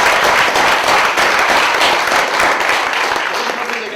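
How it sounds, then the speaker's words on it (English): Crowd at a student media showcase event gives loud, sustained applause, a thick continuous wash of many hands clapping close by, with faint voices mixed in and a slight tapering at the end. "Everyone give a round of applause."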